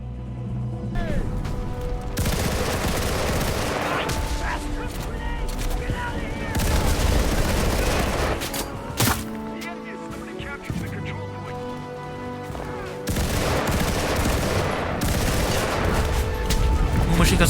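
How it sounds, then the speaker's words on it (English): Bursts of automatic fire from an M1941 Johnson light machine gun in the World War II shooter Enlisted, loud and nearly continuous with brief pauses between long strings of shots, other battle noise mixed in. "Machine guns for you, buddy."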